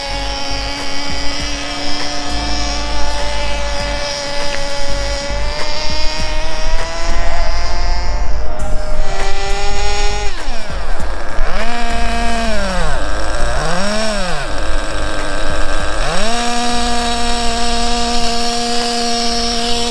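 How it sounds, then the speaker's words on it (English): Nitro gas-powered 1/8 scale HSP 94763 RC car engine running, a loud, high-pitched buzzing whine that holds steady and then revs up and down in repeated swoops, close and continuous. "Okay, let's run the engine a little bit."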